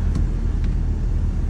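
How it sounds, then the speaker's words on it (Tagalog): A Hyundai Trajet engine with a low-power, no-RPM fault roars steadily under full accelerator: a loud, constant low rumble close by, with no voices. "full apak natin sa accelerator guys"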